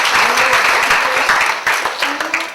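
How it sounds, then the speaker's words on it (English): A big round of applause from a conference audience for the paper presenters, dense and sustained clapping filling the hall steadily without letup. "may I request everyone to give our speakers a big round of applause."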